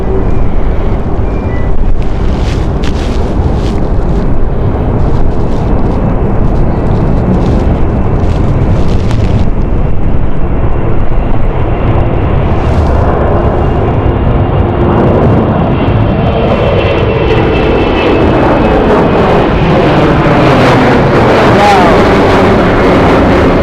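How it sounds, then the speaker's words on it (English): Airliner on takeoff from London City Airport, bound for Amsterdam in strong gusty wind, giving a loud, continuous roar of jet engines that builds steadily over about twenty seconds, with heavy wind buffeting the microphone throughout. "It's going to be a very challenging takeoff here for the Amsterdam flight."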